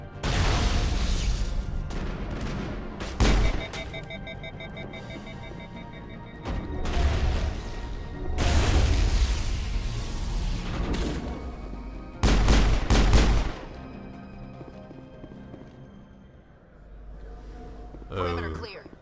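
A gunfight in the sci-fi game Mass Effect, with repeated bursts of weapon fire and booming impacts coming in waves that rise and fall, loud and fairly close, with speech mixed in at times.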